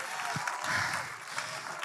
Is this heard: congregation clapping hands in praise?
yes